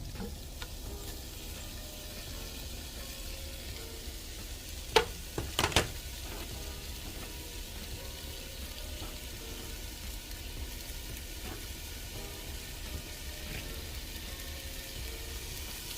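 Bacon frying in a warmed pot for Zuppa Toscana soup, a steady soft sizzle running throughout with a couple of brief louder clatters near the middle.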